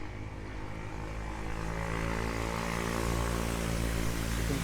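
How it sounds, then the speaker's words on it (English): Steady low rumble of road traffic passing near a front-yard garden, a continuous broadband roar with droning engine tones that swells slightly louder partway through, with no talking. "Sorry for the road noise."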